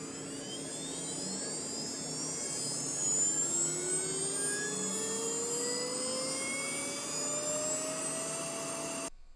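A CNC router spindle spins steadily at 40,000 RPM under VFD control, giving a loud, continuous high-pitched whine with a rising tone that climbs through the run and cuts off at the end.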